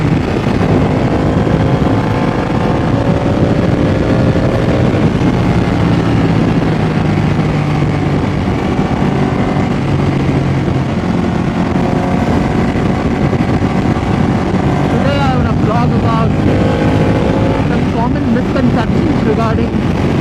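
A Ducati Panigale motorcycle engine drones steadily while riding, loud and close, with heavy wind rushing over the microphone throughout.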